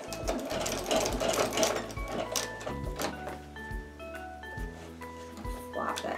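A sewing machine stitches a jelly roll rug in quick bursts of rapid mechanical whirring, stopping and restarting as fabric is turned, with background music playing underneath.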